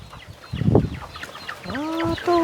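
Chickens cluck and murmur close by in a coop, with a few rising, drawn-out calls from hens toward the end.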